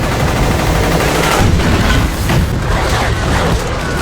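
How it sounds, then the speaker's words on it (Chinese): Gunfire from a spy drama series, as guards in a trench shoot at incoming drones: loud, dense rapid bursts of rifle fire blending into a continuous booming barrage, with no talk over it. "他们看到无人机出现立即开枪"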